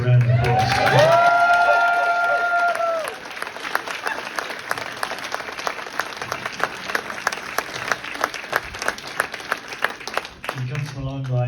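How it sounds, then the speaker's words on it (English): A class audience at a traditional music course gives a round of applause, steady clapping with a few cheers following a spoken line, continuing for several seconds before a voice resumes at the end. "I think it deserves a round of applause."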